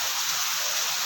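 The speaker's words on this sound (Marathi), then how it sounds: "खूप पाऊस चालू झालाय. धबधबा दाखवते" Heavy monsoon rain and a waterfall make a steady, dense rushing hiss, loud and unbroken, with no voices over it.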